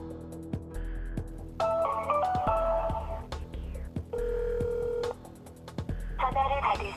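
A telephone call goes unanswered: a series of loud electronic tones, beeps and bursts of ringing stop and start over about seven seconds, with no voices.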